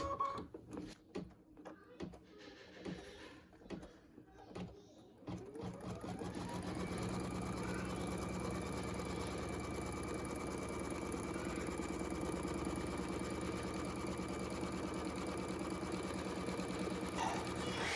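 Embroidery machine stitching an in-the-hoop cotton zipper purse; after a few seconds of soft handling noises it starts up and runs in a steady, humming, rapid needle rhythm close by.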